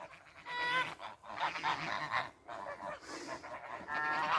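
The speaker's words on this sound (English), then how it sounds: "Oh, there goes the geese doing their funny thing they do." Several geese honk excitedly in a noisy, overlapping chorus close by, the calls rising and falling through the whole stretch.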